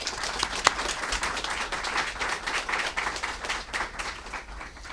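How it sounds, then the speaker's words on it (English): Applause from an audience at a Seattle mayoral civic announcement, a steady wash of many hands clapping throughout, moderately loud and fairly close, with no talk over it. "a big round of applause for Seattle"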